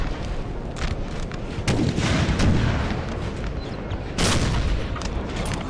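Spanish artillery fires in the video game Napoleon: Total War, with distant booming shots and scattered gunfire rolling across a noisy battlefield, heavier blasts landing near the middle and end.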